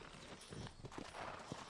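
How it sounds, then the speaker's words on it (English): Horse hooves clip-clop in the game Red Dead Redemption, a quiet, steady run of hoofbeats at an even riding pace, faint against soft background noise. "So we just have to ride the horse."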